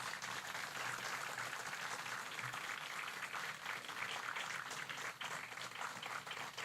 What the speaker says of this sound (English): Please join us in a round of applause for these Gold Star families.